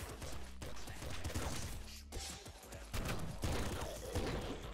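Kraken gun firing in the video game Nuclear Throne, several rapid bursts of gunfire with mechanical rumble, repeating in quick succession over a busy game soundtrack.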